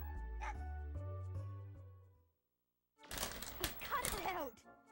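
A dog in the Mega Man Legends video game barks and yips in a rapid, excited burst after a short gap, loud and close, following a stretch of game music.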